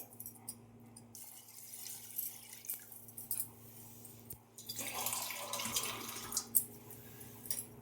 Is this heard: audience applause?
no